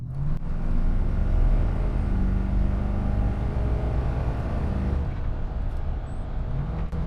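A Jensen Interceptor engine roars loudly under heavy throttle, a sustained deep drone that rises in strength before easing off near the end.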